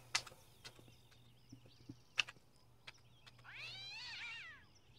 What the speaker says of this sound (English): Alright, well, I dropped the cat